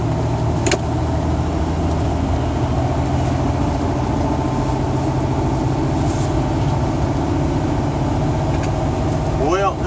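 A car engine drones steadily while driving down the road, a constant low rumble with road noise running throughout at a fairly loud, even level, with a faint voice or two over it.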